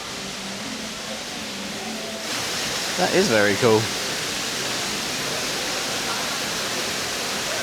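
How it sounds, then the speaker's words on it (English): A fountain runs at full force, a loud continuous broadband rush of falling water. A person briefly speaks over it partway through. "Fountain is going a full force."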